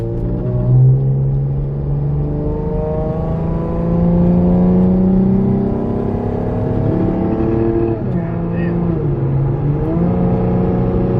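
A 2012 Lexus IS250 fitted with an Invidia Q300 axle-back exhaust and mid pipe revs loudly up and down, its rumbling engine note rising and falling in repeated pulls with a steady low growl throughout.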